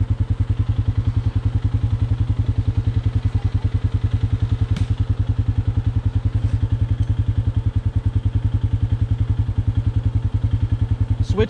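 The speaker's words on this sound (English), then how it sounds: "You might have to put the bike in, push the clutch in and try it." A motorcycle engine idles nearby in a steady, rapid low thumping pulse, unchanging throughout with a faint clack or two.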